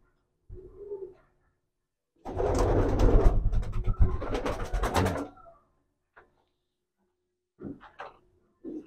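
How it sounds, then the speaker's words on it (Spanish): Racing pigeons coo in low, soft, muffled bursts: a short call, a longer throaty stretch, then a few brief coos after a pause, close by and alone. "Son hijas de la misma paloma."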